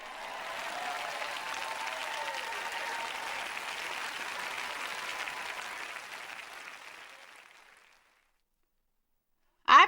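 Broad crowd applause from an audience swells and holds steady for several seconds, then fades out to silence before a sharp brief burst at the very end.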